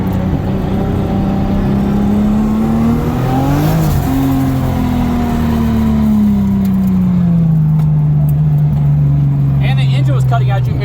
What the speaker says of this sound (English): the engine was cutting out